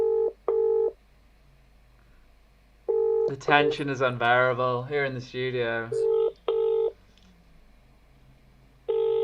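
Telephone keypad tones and ringing beeps on a retro game show, short tone bursts repeating at intervals in a quiet studio, with someone talking over the middle stretch.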